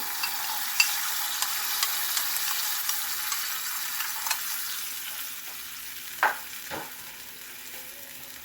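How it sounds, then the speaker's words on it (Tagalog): Broth poured into a pan of sautéed patola (sponge gourd) hisses into a steady sizzle, with a couple of sharp spatters and clinks toward the end and no talking. "Lalagay tayo ng isang cup ng sabaw."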